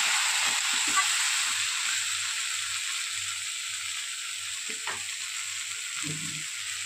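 Cabbage and rohu fish head curry keeps up a steady, close sizzle in hot oil after a little water goes in, with faint clinks of stirring and no voices.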